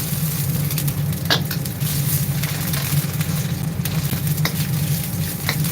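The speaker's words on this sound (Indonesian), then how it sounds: "Ini bikin nasi goreng." Nasi goreng fries in a pan in a service kitchen, a steady loud sizzle throughout with occasional sharp scrapes and clanks of the spatula stirring the rice.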